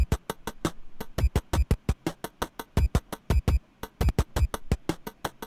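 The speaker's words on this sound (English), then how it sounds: "the drum sounds like this" A steady, punchy drum beat of sharp hits repeats in a quick, even rhythm with no other sounds.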